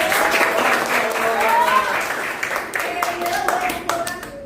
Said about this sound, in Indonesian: Berarti tepuk tangan buat Darwin